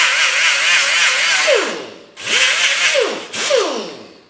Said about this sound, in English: take your sanding disc and sand all the paint off of it